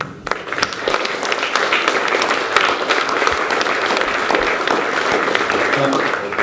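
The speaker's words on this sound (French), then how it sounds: "on va les applaudir" A conference audience breaks into sustained applause, dense clapping continuing steadily throughout at a strong level, with some voices mixed in.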